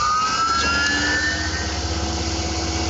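A CNC mill cuts aluminum with a 6mm end mill on an adaptive clearing pass, giving a steady, loud whine with sustained high tonal squeal over a constant low machine hum.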